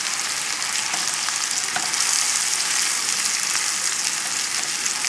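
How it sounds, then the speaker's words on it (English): Endive sautes in a pan with sugar over a fairly high flame, giving a steady, close, loud sizzle and frying hiss that runs unbroken throughout. "let this saute nicely"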